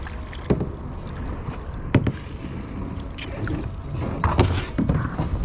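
A kayak paddle dips and splashes on open water in irregular strokes, with soft thumps and water swishes over steady wind noise on the microphone, close by and moderately loud.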